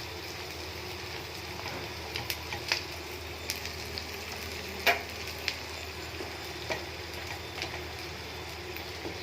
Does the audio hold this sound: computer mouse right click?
no